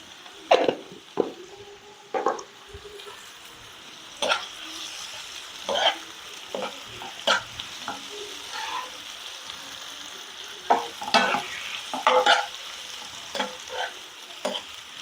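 Ginger garlic paste and tomatoes frying in a pan, with a spoon stirring: a steady soft sizzle under repeated scraping and clinking strokes, close and fairly quiet, no voices.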